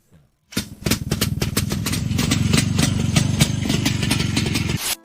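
An IFA BK 350, a postwar East German motorcycle with a two-stroke boxer engine and shaft drive, starts up close by and runs at a steady, loud, rapid putter with metallic clatter for about four seconds, then cuts off.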